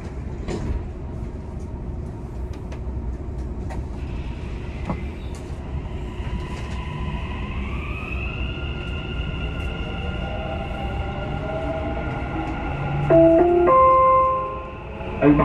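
Aboard a Dubai Metro train, a low steady rumble carries short chimes and clunks as the doors shut, then a rising electric motor whine builds as the train pulls away.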